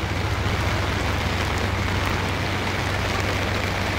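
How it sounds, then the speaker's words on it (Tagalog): Steady rain falling during a roving inspection, a dense, continuous hiss with a low droning hum underneath, constant and fairly loud, with no voices. "Peaceful ang ulan mga ka-idol."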